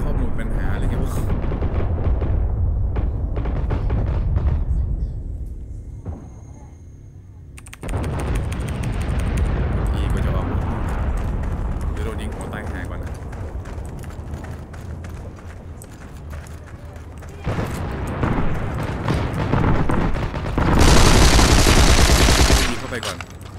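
Rapid gunfire and booming explosions from the World War II shooter Heroes & Generals, loud and dense, with bursts and brief lulls throughout.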